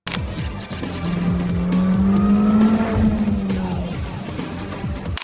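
A Mini Cooper driven hard through tight corners and tunnels, its engine revving steadily with a sustained tire squeal rising through the middle, loud and close, with no talk over it.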